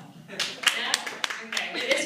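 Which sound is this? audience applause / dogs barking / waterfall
audience applause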